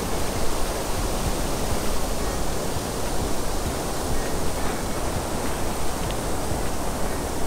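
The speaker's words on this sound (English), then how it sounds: "Then you have the river with the waterfall, the water falling down" A river waterfall pours down in a steady, dense roar of rushing, splashing water that stays loud and even throughout, with no voices over it.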